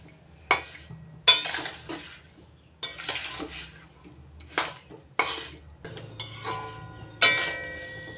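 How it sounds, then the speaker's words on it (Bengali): Sugar being stirred into raw mango pieces in a pan over a medium-low gas flame, heard as a series of about eight close, sharp utensil knocks and scrapes against the metal, with quiet pauses between them. "এবার চিনিগুলো মিশিয়ে নেব আমের টুকরোগুলোর মধ্যে।"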